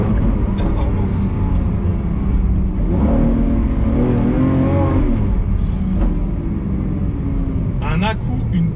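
A Lamborghini Aventador SVJ with a 770-horsepower engine rumbles and revs through a sustained mid-range surge, rising and falling over several seconds, with voices talking over it.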